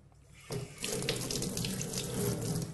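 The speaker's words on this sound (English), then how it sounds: "it's enough to clean the sensor under running water with a mild detergent" Tap water starts running suddenly and keeps splashing steadily over the sensor of a Testo 270 frying-oil tester being rinsed in a sink, close and fairly quiet, with no talking.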